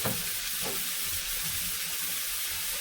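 Ground turmeric, salt, cumin and coriander frying in oil in a pan for Bengali rohu fish curry, a steady soft sizzle throughout, close and fairly quiet.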